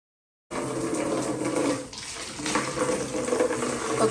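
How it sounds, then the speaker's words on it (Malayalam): Water runs from a tap as clothes are set to soak, a steady, fairly loud rushing that starts after half a second of silence and continues with slight dips and swells, with no voices. "അപ്പോൾ നല്ല തുണി നനച്ച് വയ്ക്കട്ടെ."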